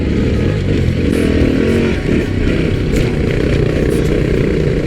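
A KTM 950 adventure motorcycle ridden fast over rocky terrain, its loud, steady engine roar close and continuous throughout without a break.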